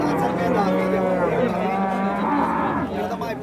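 A cow at a cattle fair in Campina Grande lets out a long, loud, close moo that fills nearly the whole span, with faint background chatter.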